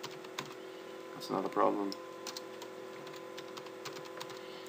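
Soft clicks of typing on a computer keyboard tap in scattered bursts, faint and close, while a person speaks briefly partway through.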